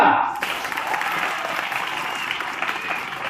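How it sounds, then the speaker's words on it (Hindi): An audience at an Independence Day celebration of speeches and songs breaks into applause after a recited poem, a dense, even burst of clapping that starts sharply as a voice cuts off and continues steadily. "क्या बात है, तालियां।"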